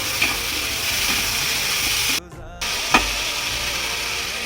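Potatoes sizzle steadily in a pan with browned onion, salt and turmeric, a continuous close frying hiss broken by a brief quiet gap and a couple of clatters, with no talk.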